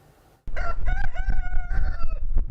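A rooster crows once, loud and close, a long drawn-out call that starts abruptly after a short quiet moment and fades at the end.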